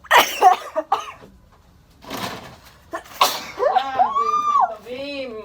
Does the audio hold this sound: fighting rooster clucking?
no